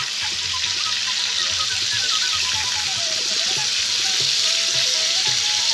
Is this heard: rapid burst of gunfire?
no